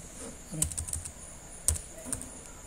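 A few computer keyboard keys pressed while editing in Word, a couple of separate clicky taps about a second apart, close and fairly quiet in a still room.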